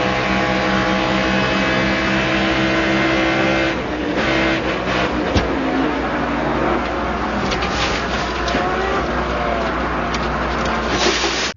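A race car engine screams at high revs from an onboard camera on a flat oval roval, a loud continuous drone with shifting pitch and a brief drop as the car lifts off and reaccelerates.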